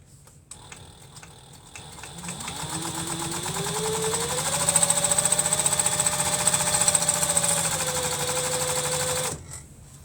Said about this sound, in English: Now we have to do a top stitch.